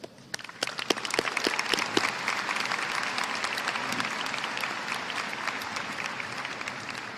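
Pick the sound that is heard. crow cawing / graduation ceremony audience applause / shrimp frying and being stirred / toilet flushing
graduation ceremony audience applause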